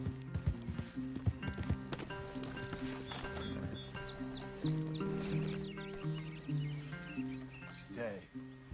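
Horse hooves clip-clop across the ground in Red Dead Redemption 2, a run of uneven footfalls near and fairly quiet, with game music and voices talking over them.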